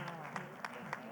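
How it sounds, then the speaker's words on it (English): Audience applause for a quiz team at the ConQuest 2022 finals, a national quiz on the Indian Constitution. A faint, steady wash of clapping with a few sharper claps standing out, mixed with a low background hum. "Huge round of applause for them."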